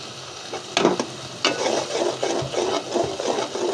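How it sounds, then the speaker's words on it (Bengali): Mustard spice paste frying in hot oil for a hilsa curry, a close sizzle punctuated by repeated scraping stirs of a spoon in the pan, no talk. "আমি এই যে মশলাটা একটু ভাজা ভাজা করবো।"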